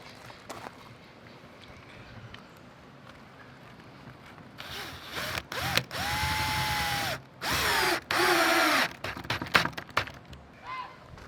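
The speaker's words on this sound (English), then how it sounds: "drive in another screw." Power drill driving a screw into wood while building a chicken tractor, with a few sustained high whirring runs that stop and restart, close and loud, followed by lighter handling clatter.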